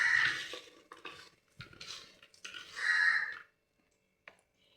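Onion vada batter with garam masala is stirred by hand in a bowl, producing close, scraping and clinking bursts in uneven strokes that stop into near silence, followed by a single faint tap.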